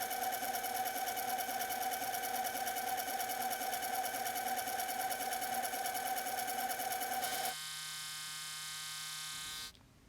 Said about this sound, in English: I actually put it on the lathe and sand it to get a nice round shape